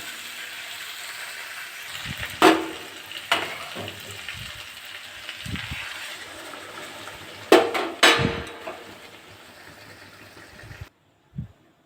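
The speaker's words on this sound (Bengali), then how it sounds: "আমার মাংসটা তেল ছেড়ে গেছে এবারে আমি গরম জলটা দিয়ে দেবো" Goat meat frying in released oil sizzles steadily, broken by several sharp hissing bursts and clatters as hot water is poured in and the pot is handled, ending with a brief knock after a pause.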